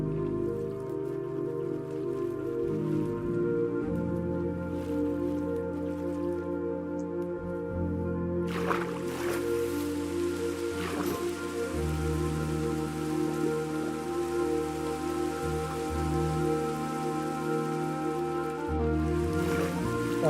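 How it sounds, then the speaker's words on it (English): Rain falls steadily in the video game Minecraft during a thunderstorm, a soft continuous patter that carries on for the whole stretch, with a few brighter crackles and splashes after the midpoint. "Oh, it's raining. I was wondering what that noise was."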